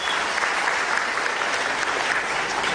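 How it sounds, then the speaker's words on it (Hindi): Audience applause for Rubina at a women's self-help group event, steady dense clapping from a large crowd, loud and continuous throughout with no pauses. "जरा ताली तो बजाओ रुबीना के लिए।"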